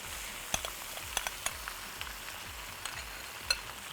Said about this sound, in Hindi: आपने इसमें चने की दाल शामिल करनी है और उसको फिर भूनना है अच्छे से